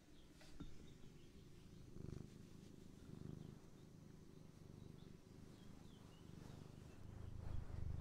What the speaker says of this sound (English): Can we hear the purr?